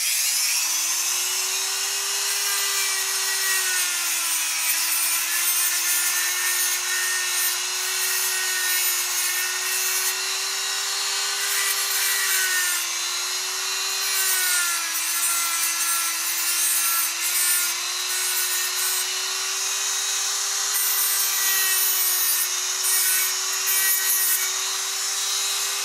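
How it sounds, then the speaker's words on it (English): A Dremel rotary tool with a cutoff wheel cutting an angle on a small piece, giving a continuous high whine with a gritty rasp that dips in pitch briefly as it bears down, close and steady throughout. "just taking the moto tool, the Dremel, and a cutoff wheel, and cutting an angle on them"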